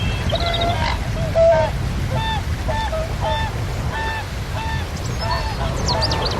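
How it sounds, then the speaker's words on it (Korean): Whooper swans calling on a vast, deep Central Asian lake at their breeding grounds, with repeated bugling honks from several birds over a steady bed of water and wind noise, no talk. "큰 고니도 때맞춰 번식지로 날아왔습니다."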